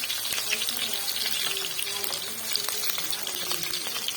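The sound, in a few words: onion and garlic frying in hot ghee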